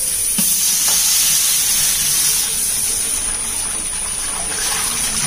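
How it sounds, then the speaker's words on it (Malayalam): Water pours steadily into a large pot for chicken dum biryani with 7 kg of rice. The hiss is a constant, close, unbroken rush with no talking. "ഓക്കെ, നമ്മൾ വെള്ളം ആഡ് ചെയ്യാണ്."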